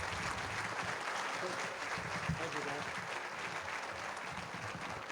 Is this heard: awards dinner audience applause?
yes